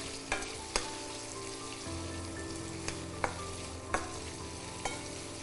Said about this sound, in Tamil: இப்போ சின்ன சின்னதாக அப்படியே இந்த எண்ணெயில் போட்டுடலாம். ரோஸ்ட் ஆகட்டும்.